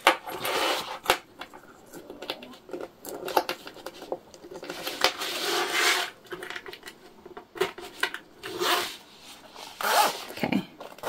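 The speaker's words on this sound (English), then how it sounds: "We're gonna put our zipper pull on and all the way off here." Clear jelly zipper pull slid along plastic coil zipper tape while sewing a hip bag, giving close, repeated short plastic scrapes and clicks in bursts with brief pauses between.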